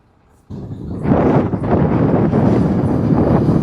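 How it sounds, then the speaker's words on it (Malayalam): After a quiet moment, loud cold wind rushes in suddenly on the Kumily mountain pass and keeps roaring against the microphone in strong, continuous gusts. "നല്ല കാറ്റാ വെളിയിൽ,"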